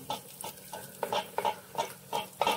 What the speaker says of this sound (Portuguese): E eu vou agregar esse caldo aqui na nossa panela